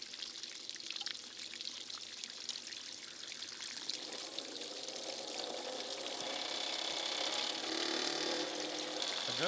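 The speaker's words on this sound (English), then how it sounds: "A good water flow running down the sluice." Water runs steadily down the sluice of a small homemade gold wash plant outdoors, a continuous close-up gush and trickle that gradually grows fuller and louder.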